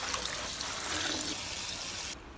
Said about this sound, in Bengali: এবার এগুলোকে ভালো করে ধুয়ে পরিষ্কার করে